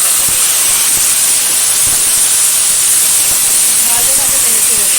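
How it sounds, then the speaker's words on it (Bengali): Washed mutton hitting hot oil in a pan sets off a loud, continuous hiss of frying that fills the whole moment, broad and steady from start to end. "এখন দিয়ে দেবো ধুয়ে রাখা মাটন।"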